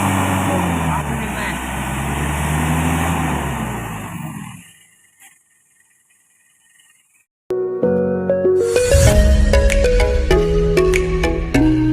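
A Mitsubishi Strada Triton 4x4 engine roars and revs with a steady loud drone while working through muddy palm-plantation ground, then cuts to near silence before music begins.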